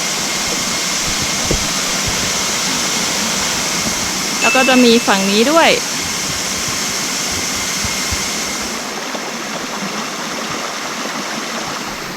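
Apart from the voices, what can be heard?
waterfall rushing at Phu Kradueng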